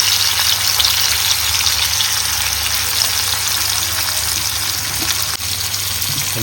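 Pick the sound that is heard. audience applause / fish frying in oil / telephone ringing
fish frying in oil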